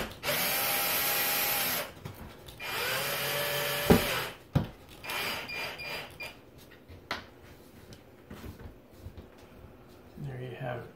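A power drill drives screws into the trim around a mobile home skylight: two long, loud whirring runs, each about two seconds, then sharp knocks and shorter, quieter spurts of the drill, with a brief whir at the end.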